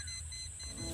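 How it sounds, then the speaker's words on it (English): An electrical tester held on a black wire gives a continuous high electronic beep, faint and steady through the short moment. "Just hold it right there on that black wire, like that, and just yell when it stops beeping."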